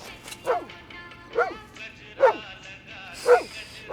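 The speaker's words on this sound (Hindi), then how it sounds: "अरे आज मोती भौंक रहा लगता" A dog in a Hindi action film scene at a plant nursery gives five sharp, evenly spaced barks over about four seconds, fairly close and clear, with a faint background hum between them.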